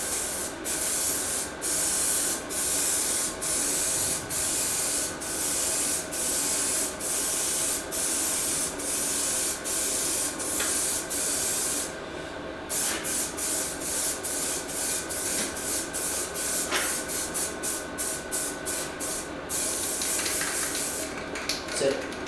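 Spray gun laying a light dusting coat of paint onto a car body panel in a bodywork shop: steady hissing bursts in a fast repeated rhythm, close and loud, with a brief pause midway and faint talk underneath.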